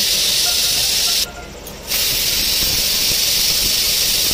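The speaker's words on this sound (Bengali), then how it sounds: "এবার সিটি আস্তে আস্তে উঠছে, দেখো পুরো সিটি উঠে গেল।" A pressure cooker cooking mutton vents steam through its whistle, a loud continuous hiss that cuts out briefly and then resumes at full force.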